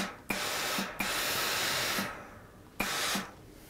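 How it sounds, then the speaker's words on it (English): A steam iron releases steam onto fabric for a fidget quilt, held just off the cloth to shape a ruched texture: three close, loud hissing bursts, each cutting off abruptly, with no talking. "And I'm not touching it with my iron, I'm just applying the steam."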